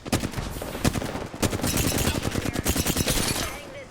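Rapid automatic gunfire in the Apex Legends battle royale game plays as a dense, loud string of shots, with brief pauses between bursts and some voice mixed in.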